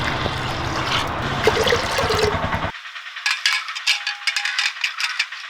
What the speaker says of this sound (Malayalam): ആവശ്യത്തിനുള്ള വെള്ളം ഒഴിച്ചോളൂ